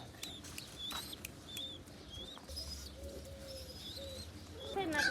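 Pigeons coo softly at a loft, a few low throaty calls under faint chirps and whistles from other birds, fairly quiet and close, without talk.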